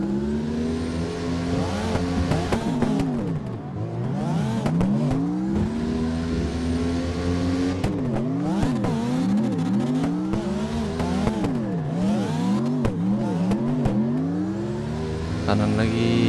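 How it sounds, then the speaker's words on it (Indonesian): Truck drifting on the Hakone Nagao touge mountain road, its engine revving hard and rising and falling in repeated surges throughout, loud and steady from inside the cab, with people talking under it. "Berisik banget mobilnya."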